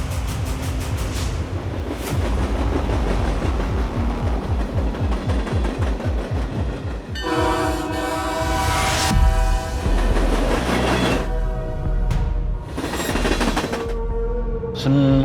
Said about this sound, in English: riding on top of a train through Mexico